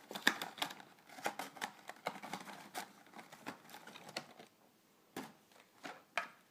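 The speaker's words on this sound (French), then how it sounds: "On enlève le scotch." Quiet, scattered crinkles, clicks and soft tearing as tape is peeled from the packaging of an Eaglemoss Marvel Crossbones figurine, issue 49, in close irregular bursts with pauses between.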